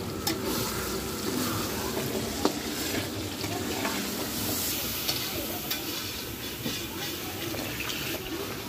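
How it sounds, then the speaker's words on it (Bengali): Masala paste sautés and is stirred in a pan for a Pahela Baishakh feast, with a steady close sizzle, scraping stir strokes and occasional small knocks, no speech heard. "5-7 মিনিট সময় নিয়ে মশলা কষানো হচ্ছে।"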